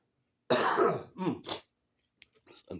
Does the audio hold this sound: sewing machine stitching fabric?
no